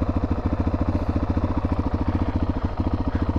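A Suzuki DRZ motorcycle engine idles on a desert trail, a loud, close, steady single-cylinder thump with even rapid pulses and light mechanical clatter, no talking.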